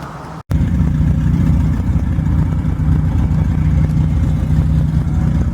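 Two turbocharged Volvo wagons accelerating hard side by side down a long straight road in a drag race, a steady loud engine roar that holds throughout after a brief dropout at the start.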